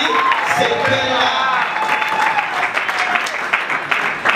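Applause from an audience at an award ceremony in Kinshasa where trophies go to government members, steady dense clapping throughout with voices and a whistle-like tone mixed in.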